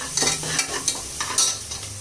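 Onions sizzle in a hot pan while a spoon stirs them, a steady close frying hiss broken by several scraping strokes, with no one talking.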